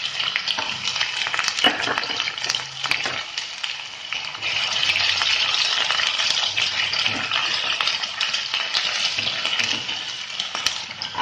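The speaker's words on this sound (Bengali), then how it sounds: "আলুটা এমন ভাবে কষ হয়ে যাচ্ছে," Chopped potatoes fry in oil in a wok with garam masala, a close, constant sizzle that grows denser midway, punctuated by scattered clicks and scrapes of stirring, with no talk.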